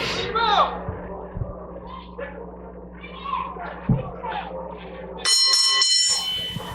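A bright metallic bell rings out loudly for about a second near the end, following a stretch of crowd noise and commentary-like talk.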